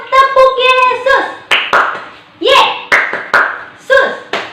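Children play a rhythmic clapping game at an online Sunday kids' church service, with sharp bursts of claps alternating with chanted voices.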